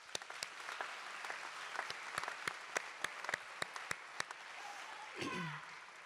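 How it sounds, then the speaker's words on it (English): Sparse clapping at a nursing graduation ceremony, sharp individual claps spaced out over a hissy hall ambience, with a brief voice near the end. "So let's have a round of applause"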